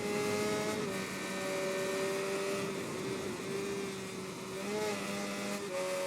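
Honda CBR motorcycle engine in the Ride 3 racing game, a steady high droning whine with a slight shift in pitch partway, heard faintly and alone at low level.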